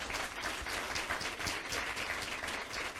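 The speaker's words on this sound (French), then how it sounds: "Un applaudissement." A round of applause from an audience at a Caribbean Christmas contest, dense and steady clapping at moderate level, continuing evenly for the whole stretch without talk.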